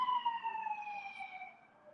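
Dayton police car sirens at a Christmas parade, a single loud wailing tone sliding downward and fading over two seconds.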